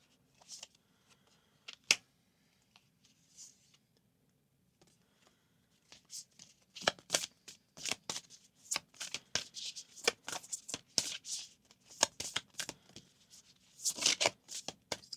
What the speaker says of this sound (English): These cards are kind of hard to shuffle though.